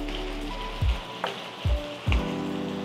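Fried fish pieces dropped into oyster sauce in a pan: a continuous sizzle broken by four dull thumps at even intervals as each piece lands, each followed by a brief surge of frying.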